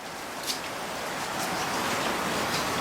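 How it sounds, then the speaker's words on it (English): Heavy rain drums steadily on the body and roof of a 454 dually pickup truck just after a marble-sized hailstorm, a dense close hiss with a few louder drop impacts, no talking. "boy, it's raining"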